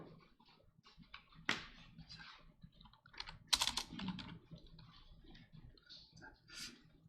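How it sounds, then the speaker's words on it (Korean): Keys tapped on a computer keyboard in a quiet room, a sparse, irregular run of soft clicks with a few sharper, louder presses, close by and without speech. "그럼 여기서 이제 아무 키나 누르면 꺼져요."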